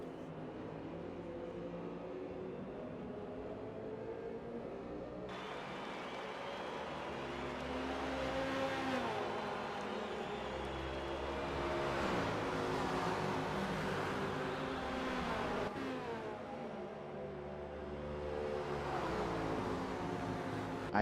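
Race cars in a Le Mans endurance racing video game roar steadily through the Porsche Curves and down the start-finish straight, engines rising and falling in pitch as cars pass close by, continuous and loud with no voices.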